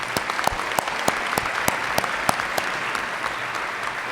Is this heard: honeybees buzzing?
no